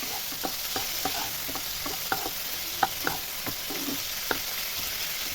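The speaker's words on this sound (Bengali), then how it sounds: "চিংড়িগুলো আমি ঠিক 2 মিনিট নাড়াচাড়া করে নামিয়ে নেব" Prawns stir-fry in a hot pan, giving a steady bright sizzle throughout with scattered soft scrapes and clicks of a utensil moving them around, close and fairly loud, with no voices.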